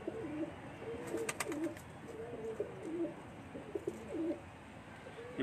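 Rooftop pigeons cooing, including old white birds, repeated low throaty coos in short phrases close by, with a few sharp clicks and flutters and no talk.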